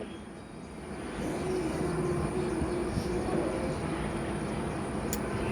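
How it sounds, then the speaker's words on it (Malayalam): An Indian Railways train approaches in Kerala, its rumble swelling after the first second into a sustained, close roar with rattling undertones and no voices. "Guys please wait, train is on the way."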